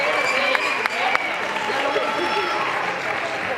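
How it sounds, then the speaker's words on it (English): Audience at a church Bible quiz competition clapping for placed teams, a steady mid-distance round of applause with a few sharper claps standing out. "Give them a big clap."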